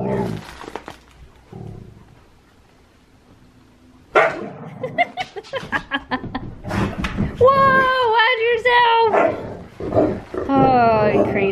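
Several dogs bark, yip and growl playfully indoors in loud, rapid bursts, sparse at first and then dense and continuous, with people talking briefly between barks.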